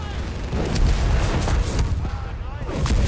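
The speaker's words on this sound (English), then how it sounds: "Artillery called in here." Artillery fire in Company of Heroes 3 during a desert battle, a dense rumble of distant booms and blasts rolling continuously, with a voice talking over it.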